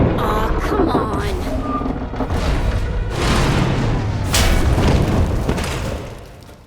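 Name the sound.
explosions in a video game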